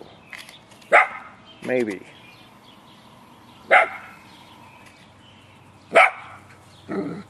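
A dog barks sharply several times at irregular intervals, moderately near, with a brief spoken word between barks.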